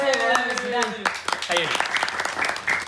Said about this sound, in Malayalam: എല്ലാവരും നമ്മുടെ യാസറിന് വേണ്ടി 50K ആയതിൽ വളരെയധികം ഒരു കയ്യടി